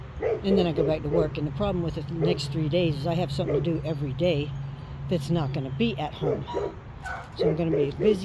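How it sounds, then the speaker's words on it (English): Neighbor's dogs barking excitedly in a garden, repeated yips and barks with some whimpering at moderate distance, under a person talking throughout. "sorry for the dog noise"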